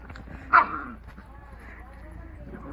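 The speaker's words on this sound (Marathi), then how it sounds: "मित्रांनो छोटस पिल्लू आहे." A small puppy lets out one short, close yip-like whimper early on, then only quiet background noise follows.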